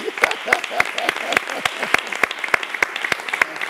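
A church congregation claps in a steady rhythm, about three to four claps a second, loud and close, with some voices mixed in.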